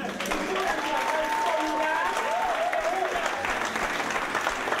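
A church congregation breaks into sustained applause, a dense continuous wash of clapping with some cheering and voices mixed in, steady throughout.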